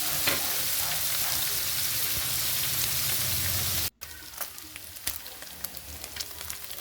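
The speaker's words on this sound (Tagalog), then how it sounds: "Iprituhin muna natin yung ating breast chicken para lumabas yung kanyang lasa." Shredded chicken breast fries in a pan, a loud continuous sizzle that drops after a brief cut to quieter crackling with scattered pops.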